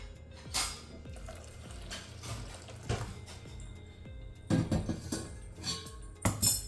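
Utensils clink and scrape against a pot as a mixture is stirred, with irregular bursts of clatter and a steady low background.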